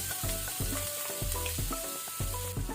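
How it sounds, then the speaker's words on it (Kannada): Onions fry in oil over a medium flame with a steady sizzle for an egg masala base, and a spatula stirs and scrapes in a regular rhythm. The sound is close and continuous, with no voices. "ಈಗ ಈರುಳ್ಳಿಯನ್ನು ನಾವು ಮೀಡಿಯಂ ಫ್ಲೇಮಲ್ಲಿ ಕೆಂಪಾಗೋ ತನಕ ಫ್ರೈ ಮಾಡ್ಕೊಳ್ಳುವ"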